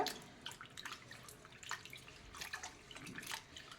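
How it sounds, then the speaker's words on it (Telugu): Dried fish are washed by hand in water, producing soft intermittent sloshing and splashing at close range, quiet and irregular, with no voices. "చేపలు అయితే మంచి క్లీన్ కడిగేసుకోవాలన్నమాట."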